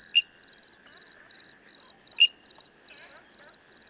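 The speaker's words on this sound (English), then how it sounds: "emerald tree frogs happily hide in the shade of lush green leaves, calling their mates" Emerald tree frogs calling among lush leaves in a botanical garden, a steady series of rapid, high pulsed trills repeating in short bursts, with a couple of sharper clicks, close and clear.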